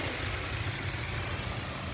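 A 2022 Hyundai Santa Cruz pickup's SmartStream turbo engine idling, a steady low rumble with faint knocking-like texture, close and continuous with no pauses.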